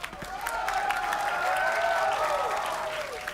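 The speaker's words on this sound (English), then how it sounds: "the crowd that you hear right now is getting very scared for King's timing." A large crowd at a Valorant esports match cheers and applauds steadily throughout, with rising whistles and shouts mixed into the continuous roar.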